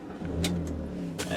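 A warm 2004 Chrysler PT Cruiser GT engine running steady and close, its low mid-pitched drone continuous through a short stretch with faint higher clicks on top and no voices.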